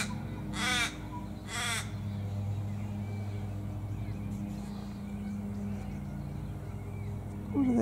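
Two loud harsh caws from Australian ravens feeding in a silky oak tree, close and distinct early on, followed by quieter ambient noise with a faint distant sound near the end.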